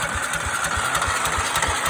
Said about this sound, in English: Starter seems to be working fine right now, so happy with that.